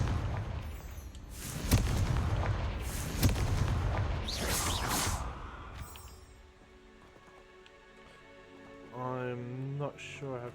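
Spell explosions from Confringo cast in Hogwarts Legacy, a series of deep booming bursts in the first half followed by quieter game ambience and a rising musical tone near the end, with a voice talking over parts of it.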